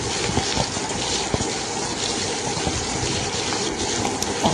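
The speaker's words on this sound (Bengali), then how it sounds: "ক্যাপসিকামটাও আমি হাই ফ্লেমে কিন্তু ভেজে নিচ্ছি" Square-cut capsicum pieces frying in hot oil over a high flame give off a steady, loud, dense sizzle that runs unbroken and close throughout, with no voices.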